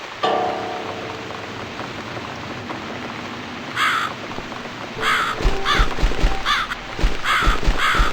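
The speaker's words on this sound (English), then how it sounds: "It's this damn bird again." A crow caws repeatedly in The Cat Lady video game, harsh calls coming in several bursts over a steady patter of rain, growing busier toward the end.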